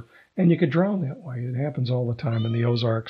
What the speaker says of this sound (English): That's my cat, okay?